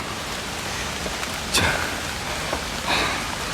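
Steady rain hisses throughout at MacRitchie forest in Singapore, with a couple of slightly louder drips or splashes breaking through.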